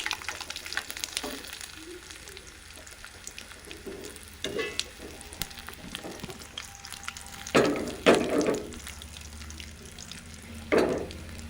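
Cashews fry in a pan for kichidi with a steady low sizzle, broken by several louder bursts of crackling as ingredients hit the hot oil and are stirred, close up and without talk.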